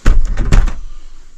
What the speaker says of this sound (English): I can't open this door.